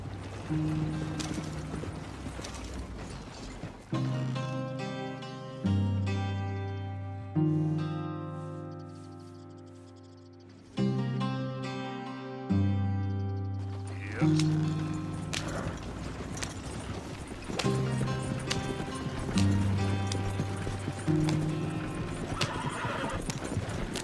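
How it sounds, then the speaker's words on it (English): Horse hooves in Red Dead Redemption 2 clip-clop rapidly in a steady galloping rhythm, with occasional whinnies, set against a backdrop of sustained, stepping musical tones. "Slow down, you'll burn out the horses."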